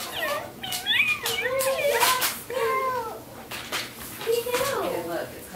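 A toy cat makes repeated high, warbling meows that rise and fall in quick succession, fairly close, with a few sharp clicks between them.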